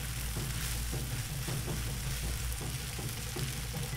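Yakisoba noodles sizzling with sauce in a hot wok, a steady loud frying hiss with low rumbling underneath and faint periodic scraping from stirring, continuous throughout with no talking.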